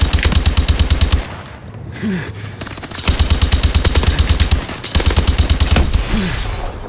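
LMG machine gun fire in Call of Duty Advanced Warfare Exo Survival, with loud sustained automatic bursts broken by short pauses, close and dominant, and no talking.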